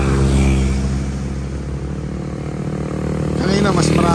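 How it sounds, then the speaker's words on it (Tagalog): Motorcycles climb Marilaque road with engines droning and revving nearby, a mid-pitched motor hum rising as another bike passes close near the end; someone talks over the traffic. "walang humpay pa rin yung mga tumataas na nakamotor"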